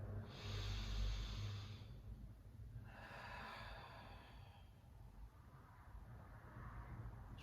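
Slow, deep breaths during a Pilates mat exercise: a long airy inhale, a pause, then another drawn-out breath, close and quiet, with no talking.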